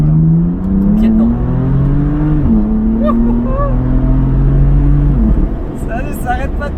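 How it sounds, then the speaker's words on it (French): BMW M4 with nearly 500 horsepower and rear-wheel drive accelerating at full throttle, a loud close engine roar rising in pitch through gear changes, heard from inside the car with a voice speaking over it. "Et j'ai mis pied dedans dans une voiture qui fait près de 500 chevaux propulsion."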